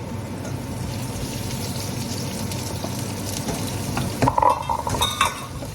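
Onions hit a hot pan and fry with a steady, close hiss, and a few clattering stirs break in near the end.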